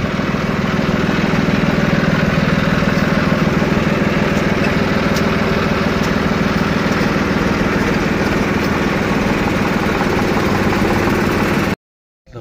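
An Eicher tractor, loaded with manure, runs close by with a steady, throbbing diesel engine note that holds constant for several seconds before cutting off abruptly.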